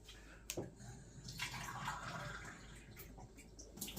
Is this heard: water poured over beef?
yes